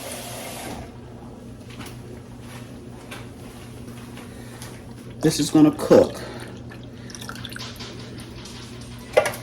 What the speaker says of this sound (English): That was about a half a cup of water I just put in there